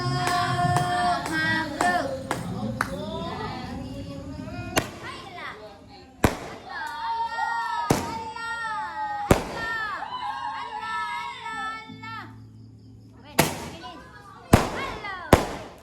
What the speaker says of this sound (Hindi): इतने सारे पटाखे